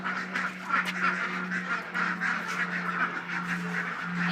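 Ducks at a duck hatchery quack in a faint, continuous chatter that runs through the whole stretch, with a steady low hum underneath and no voices.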